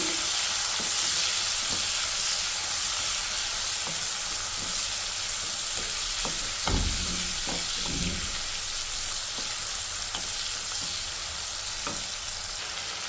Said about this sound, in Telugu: తర్వాత కరివేపాకు, కట్ చేసుకున్న ఆనియన్. ఈ ఆనియన్ అయితే బాగా వేగనిద్దాము.